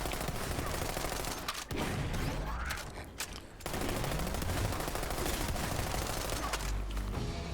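Rapid automatic gunfire from a weapon in Borderlands 3, a dense continuous stream of shots with brief lulls and layered explosive impacts, loud and close with game effects mixed in.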